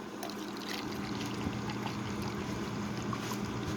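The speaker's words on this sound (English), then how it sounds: "I'm going to pour us a cup of juice." Florida orange juice pours steadily into a sipper cup, a continuous close liquid trickle with a faint low hum beneath it.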